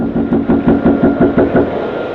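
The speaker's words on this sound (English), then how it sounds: "Then he knocks again." A man knocks on a front door, caught on a doorbell camera: a series of about seven firm, evenly spaced knocks close by, with no voices.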